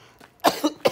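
A person coughs, a short burst of three or four sharp, close coughs in quick succession.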